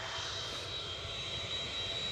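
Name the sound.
RB211 aircraft engines picking up on departing plane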